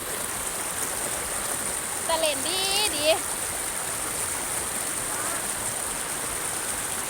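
Rushing water flows steadily as a broad hiss throughout at a waterfall stream, with a brief bird-like warble and faint voices partway through.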